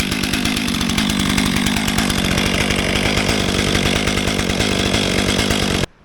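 A STIHL MS 500i fuel-injected chainsaw runs close and loud with a steady, buzzing two-stroke drone for almost six seconds, then cuts off abruptly.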